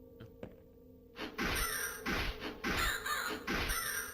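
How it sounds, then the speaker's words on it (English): Several loud, harsh crow-like caws in a video game demo, repeated in a rough rhythm after a quiet start with a couple of faint clicks. "So yeah, birds aren't really any threat because they just don't do enough damage."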